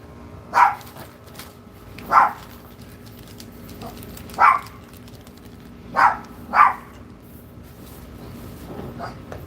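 A dog barks five times, each bark short and moderately distant and spaced a couple of seconds apart, with the last two close together. A low steady background hum runs underneath.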